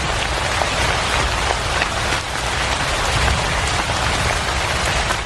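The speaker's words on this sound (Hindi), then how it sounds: "तभी बारिश की शुरुआत हो गई" Rain falls steadily and loudly in a dense, continuous patter on surfaces, with no voices over it.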